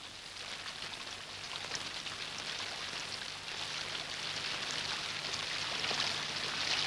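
Steady rain falls in a dense, even hiss with fine pattering drops, constant throughout and moderately loud, with no voices.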